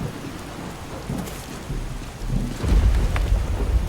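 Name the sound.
rain and thunder in modded Skyrim video game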